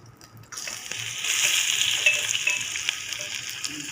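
Crushed garlic dropped into hot oil with popped mustard seeds for a Kovai-style garlic kuzhambu, the sizzle jumping up suddenly and staying strong and close, with faint crackles throughout.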